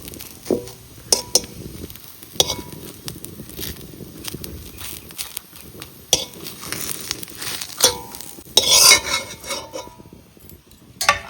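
Utensil scraping and clinking against a pan as a mixture is stirred in a home kitchen, irregular knocks and scrapes with some crinkling, mostly faint with a few sharper clinks.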